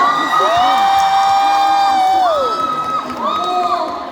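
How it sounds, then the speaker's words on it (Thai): A cheering squad from an advertising faculty shouts and whoops together at a women's day event, with loud, sustained crowd voices rising and falling in pitch, close and continuous throughout. "ฟังเสียงของกองเชียร์คณะโฆษณา"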